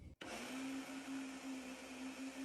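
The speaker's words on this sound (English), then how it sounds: "Now we're going to take our strawberries and place in a blender." A blender starts abruptly and runs steadily, pureeing strawberries with lemon juice and sugar under a lid, a loud continuous whirring motor drone with a steady hum and no voices.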